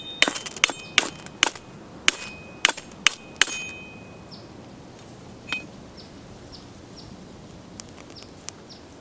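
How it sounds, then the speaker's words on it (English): The back of a big knife blade struck against a fire steel: about eight sharp, bright metallic scrapes in a quick irregular run, then one more strike after a pause, close and crisp over quiet outdoor ambience with faint bird calls. "You can use the back of any blade for a fire steel striker on big knives"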